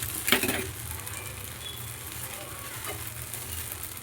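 A dosa cooks with oil on a hot pan, crackling in a steady close-up sizzle that is sharpest at the start and then settles into an even hiss.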